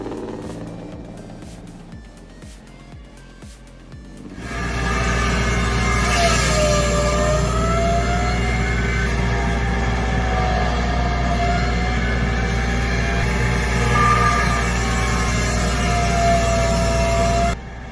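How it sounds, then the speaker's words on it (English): A 1958 Kenworth logging truck with a 220 Cummins engine rumbles loud and steady once it starts up after a quieter stretch, a deep drone with a faint whine riding over it. "You're listening to a 1958 Kenworth, powered by that classic 220 Cummins engine."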